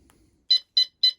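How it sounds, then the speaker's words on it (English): Three short, bright electronic beeps from the alarm system of a 2020 Coachman disarming, evenly spaced about a quarter second apart, clear and close, following a moment of quiet. "that's 3 beeps"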